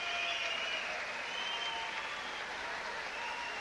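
A boxing arena crowd claps and cheers in sustained, dense applause that stays steady and fairly distant, with a faint voice under the clapping.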